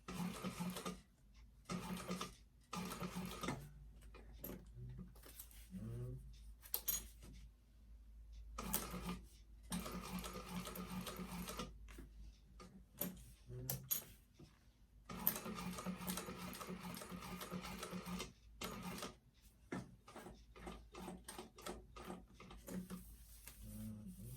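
Sewing machine stitching a curved seam on a vintage-style expandable tote bag, in short rapid bursts of whirring needle chatter separated by pauses, fairly close and moderately loud.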